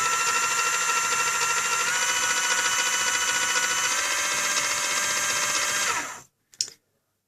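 A small electric motor drives one wheel of an r/c robot car, giving a steady high-pitched whine with a grinding edge that holds for about six seconds, then cuts off, followed by a brief click.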